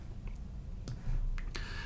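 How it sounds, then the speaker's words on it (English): A few soft, sharp clicks of computer keyboard keys being pressed close by, spaced irregularly over a quiet background. "Now I'm going to push Command K on my keyboard to pull up musical typing."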